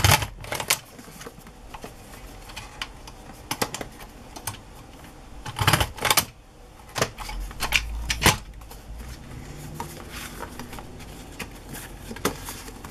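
A hole punch clacking through the edge of two sewn-together cards, sharp separate snaps at uneven intervals with quiet handling rustle between them, close up.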